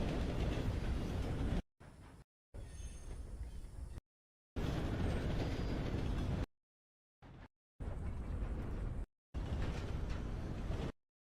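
Train rolling along rails in a video game, a steady broadband rumble that cuts in and out in several segments separated by silent gaps.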